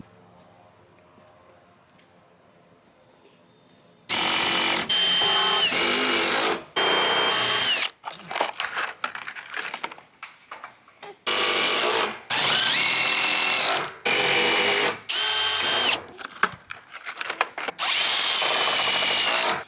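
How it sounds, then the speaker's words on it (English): A power drill drives screws through flanged, gusseted fasteners into a wooden DIY farm stand. After a few quiet seconds come about eight loud, close whirring bursts, each a second or two long and separated by short pauses. "The last step is just taking the fasteners and getting it screwed in."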